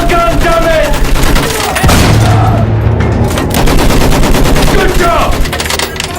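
Loud, sustained gunfire and explosions fill a Battlefield 1 battle scene, with dense rifle and machine-gun bursts and the booms of a World War I field gun, all close and continuous.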